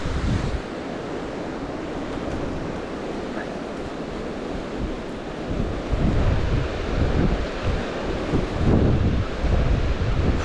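Strong gusting wind buffets an outdoor microphone on a hill walk, a continuous roaring rumble that swells louder partway through, with no voices heard.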